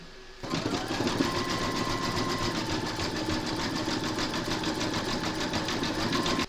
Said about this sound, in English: That's going to zigzag this raw edge, and it's also going to put the quilt lines in on the melon.